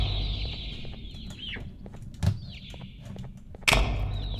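In the Garten of BanBan II video game, birds give bursts of clucking and chirpy squawks, broken by two sudden thuds.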